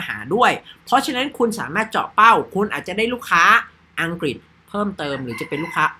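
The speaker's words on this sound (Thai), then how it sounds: "ทำไมไก่ขันก็ไม่รู้เหมือนกันนะฮะ" A rooster crows at a rural Thai home around two in the afternoon. The crowing sits in the background beneath someone talking steadily close by.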